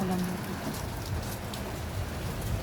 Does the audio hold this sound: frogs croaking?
no